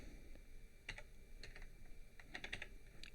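Typing a command on a computer keyboard, quiet scattered keystrokes that come in small bursts with short pauses, heard close and alone.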